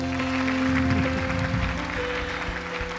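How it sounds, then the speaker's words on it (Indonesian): Audience clapping at moderate volume on a televised children's singing competition, a steady patter of applause over a humming tonal background. "Tepuk tangan dong untuk David."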